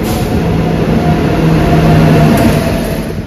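A train pulls into a station on the Balasore to Howrah route, a loud, steady rumble of wheels and carriages with faint humming tones running throughout.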